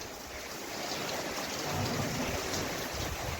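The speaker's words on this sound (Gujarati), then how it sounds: "ફૂલે ફૂલ વરસાદ ચાલુ થઈ ગયો" Heavy steady rain pouring down on a farm, a dense continuous hiss of falling water with no pauses, moderately loud and even.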